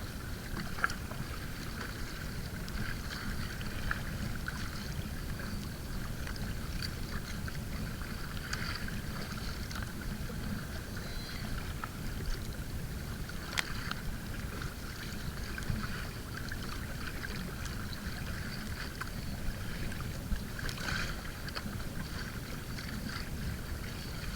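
Kayak paddled straight into wind-driven waves on open water, with a steady low wash of water and wind rumble throughout and faint intermittent splashes from the paddle strokes, no voices.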